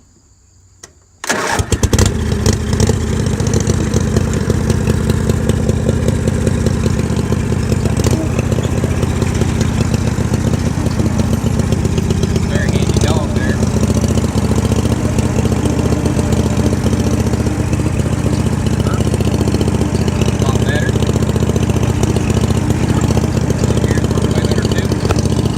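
An AMF mud mower engine fires up after a brief quiet moment, then runs loud and steady with a constant chugging drone throughout a ride.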